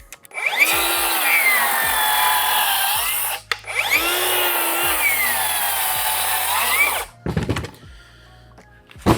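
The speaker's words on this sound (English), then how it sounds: "this saw is still going for it" A Metabo HPT C3607DWAM cordless rear-handle circular saw with a dull blade cutting into a 6x6 wood post: two long, loud, close whining cuts, each spinning up and bogging through the wood, followed by clattering and knocking.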